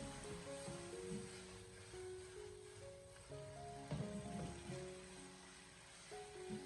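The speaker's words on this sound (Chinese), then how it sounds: "我们开大火将它快速的翻炒出锅气，就可以出锅了" Pressed tofu stir-fried with pork and scallions in a wok over high heat, giving a steady sizzle and crackle with some tossing scrapes, moderately loud and close, with a faint background hum and no talk.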